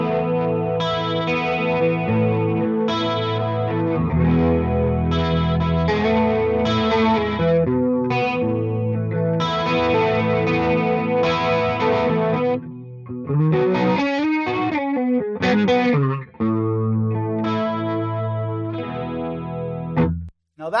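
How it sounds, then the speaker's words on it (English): Electric guitar played through a Boss-style chorus effect on a VP4 into a slightly dirty Bogner Plexi amp, shimmering chords and single-note lines ringing continuously for about twenty seconds with no talking. "So let's hear what the boss chorus sounds like."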